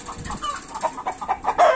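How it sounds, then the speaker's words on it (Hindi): Backyard chickens, including native breeds and Kadaknath kept alongside pigeons, clucking in a steady run of short, overlapping calls at moderate distance, ending with a louder squawk. "इधर कुछ दोस्तों कुक्कड़ कबूतर जिहड़े वह भी इत्थे रखे हुए है"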